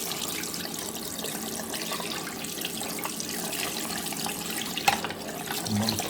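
Running tap water rinses a central heating magnetic filter, a steady close splashing and trickling with a few small knocks of the part against the sink.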